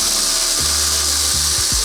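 Power ratchet backing out valve cover bolts on a Mercedes M156 engine, a steady whirring drone with a few short pitch sweeps as the tool spins up and down, close and loud.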